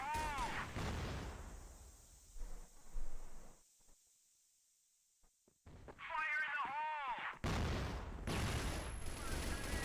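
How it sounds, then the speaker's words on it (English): Stacked grenade explosions in a CrossFire esports match, landing as loud bursts with gunfire bursts around them, a quiet lull midway, then dense overlapping blasts near the end, with a caster talking over parts of the action. "Nice little nade stack there."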